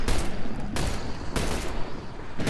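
Dense bursts of fully automatic gunfire crackle in The Bureau: XCOM Declassified, three rapid sustained volleys close and loud with brief gaps between them.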